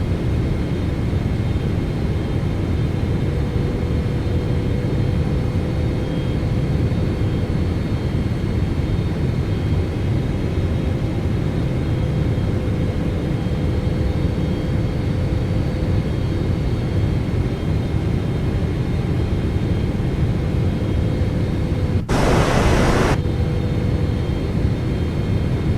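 Boeing 777-300ER jet engines in Microsoft Flight Simulator 2024 give a steady, loud, broadband roar with a low rumble and a faint whine running throughout, and one brief hiss burst near the end.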